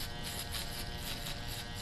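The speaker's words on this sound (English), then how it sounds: "foil shaver, whatever you want to call it." An electric foil shaver buzzes steadily and quietly during a barbershop high and tight skin fade, a close, even hum with slight fluctuations as it moves over the skin.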